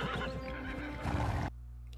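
A horse whinnies loudly on a film soundtrack, a rising, shaky neigh that breaks off abruptly at about one and a half seconds, leaving a low hum.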